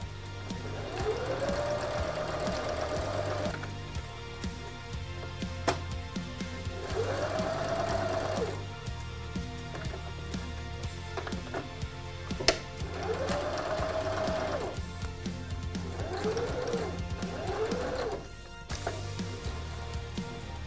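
A sewing machine stitches curtain fabric into a pouch in several whirring bursts of a few seconds each, separated by pauses, close and clear with no talking.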